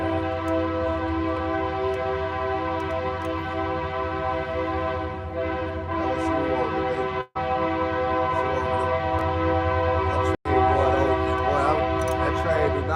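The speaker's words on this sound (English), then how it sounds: "That train do not quit, boy." A train rolls past with a steady, loud rumble and sustained horn-like tones that hold for several seconds, while people talk over it.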